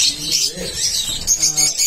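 A colony of caged lovebirds chirping and tweeting at once, high and busy, with some lower warbling notes mixed in.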